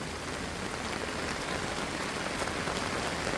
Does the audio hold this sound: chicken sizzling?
no